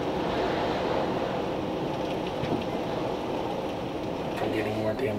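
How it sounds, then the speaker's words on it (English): Strong hurricane wind roars through a storm, a dense, steady broadband rush that never lets up, with gusty surges, rattling and spattering rain mixed in, while a voice speaks faintly underneath. "the really intense wind is starting to settle down a little bit"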